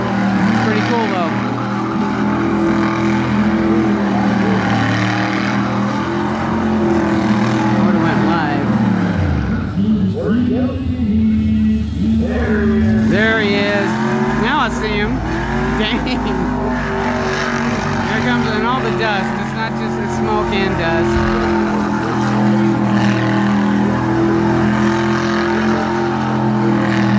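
A hot rod doing a tire burnout at a rod run roars continuously with a loud, droning engine note that dips and climbs, while people talk over it.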